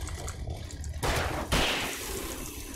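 Revolver gunshots in the video game Alan Wake: two sharp, loud broadband blasts about half a second apart, each trailing into a decaying wash of noise over a dark, rumbling background.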